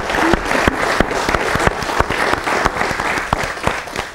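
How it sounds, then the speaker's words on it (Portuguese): A conference audience in Mozambique breaks into steady, dense applause for a speaker, many hands clapping at once with a few sharper individual claps standing out, loud and continuous throughout. "uma salva de palmas ao Dr."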